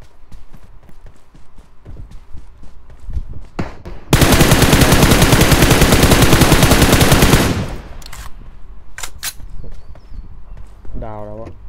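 A PUBG Mobile match: a dense, loud stretch of rapid automatic gunfire lasts about three and a half seconds, surrounded by scattered single shots and footsteps, with a player's voice talking around it.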